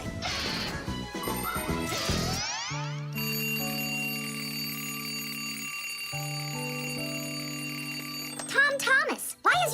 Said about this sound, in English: why is your alarm clock ringing in the middle of the night, huh?